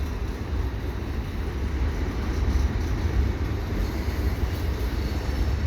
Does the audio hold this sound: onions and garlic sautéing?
no